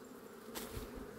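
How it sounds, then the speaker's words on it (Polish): Honeybees buzz around the entrances of several hives in an apiary, a steady close insect drone with one brief louder pass, and no voices. "Pszczoła się już mną interesuje."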